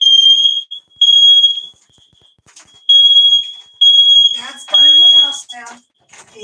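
A household smoke alarm shrieks in loud repeated high-pitched bursts while food cooks in a home kitchen, and someone talks between and over the beeps.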